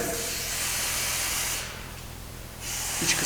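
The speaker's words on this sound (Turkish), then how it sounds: "Şimdi balta spreyiyle biraz temizleyeceğim." A steady hissing spray from an aerosol can of WD-40 penetrating lubricant, held for a second and a half, pausing briefly, then spraying again while cleaning a car wheel bearing.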